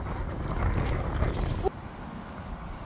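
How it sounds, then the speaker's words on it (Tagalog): Strong warm wind buffets the microphone in a low, roaring rumble outdoors in Canada, then drops abruptly to a steadier, quieter rush of moving air. "Ang lakas ng hangin. Ano ba to?"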